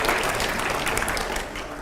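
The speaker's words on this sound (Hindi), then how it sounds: "जोर से तालियां होनी चाहिए इसके ऊपर" A studio audience at a political question session claps loudly and densely, a continuous burst of applause filling the whole moment.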